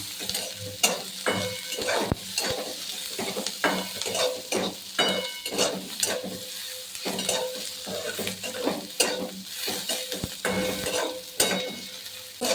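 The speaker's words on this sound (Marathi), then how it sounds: "कांदा असा गुलाबी होतपर्यंत हे करून घेतला मी" Onion and garlic fry in a pan for chicken gravy while a spoon stirs, scraping and clattering in repeated sharp strokes over a constant loud sizzle, with no voices.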